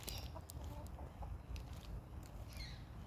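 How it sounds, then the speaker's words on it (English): Free-range chickens in a winter garden cluck and chatter softly nearby in short, scattered bursts over a faint outdoor background, no one talking. "Do you like the chickens?"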